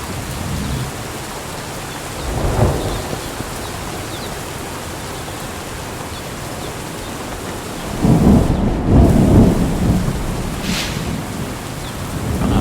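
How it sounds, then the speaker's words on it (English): Rain and thunder in the video game Drug Dealer Simulator, a steady wash of heavy rainfall with two deep rumbling thunder swells, one early and a louder, longer one later, with no voices. "That rain is getting really loud."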